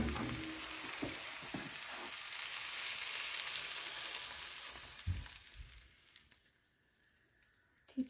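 Steady frying sizzle of eggplant in a pan, a continuous crackling hiss with a few clinks of utensils, quieting toward the end.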